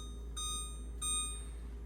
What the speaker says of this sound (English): Then set a 15-minute timer.